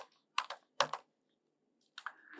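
Computer keyboard typing Python Pandas code, heard as a few short, close clusters of crisp keystrokes separated by quiet pauses, with no talking.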